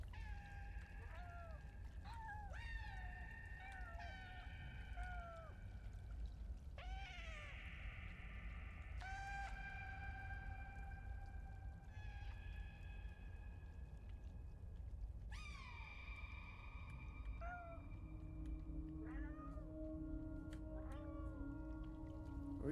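Repeated cat meows from the video game Stray, a series of clear, drawn-out mews and cries spread across the clip over a steady low background hum, with no talking.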